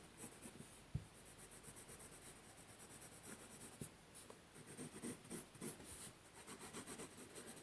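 A Lyra Rembrandt Polycolor colored pencil scratches steadily across paper, a close, quiet, continuous rasp of short rubbing strokes that quicken and grow more rhythmic toward the end.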